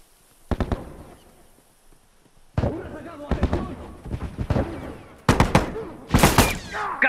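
Sharp gunfire and explosions crack out in bursts in a The Last of Us match, loud and close, separated by short lulls while voices shout over the combat.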